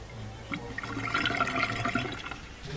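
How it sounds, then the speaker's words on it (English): A Bosch dishwasher drains after its drain pump was replaced: water gushes and splashes in a steady, moderately quiet rush lasting the whole stretch. "You can see the water shooting out."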